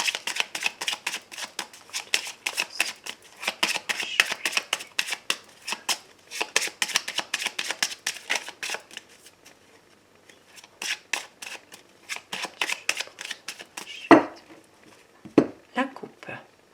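Tarot cards are shuffled in a rapid, crisp run of riffling slaps for several seconds, then cut with a few sharper, louder card knocks near the end; a voice is faintly present.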